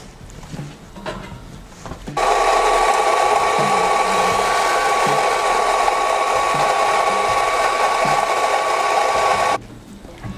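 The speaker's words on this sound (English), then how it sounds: "Put in the grinder." An electric coffee grinder grinding about 16 grams of coffee beans for espresso, a steady loud whirring drone lasting roughly seven seconds after quiet handling sounds, then stopping abruptly.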